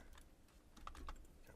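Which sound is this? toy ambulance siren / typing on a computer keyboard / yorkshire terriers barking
typing on a computer keyboard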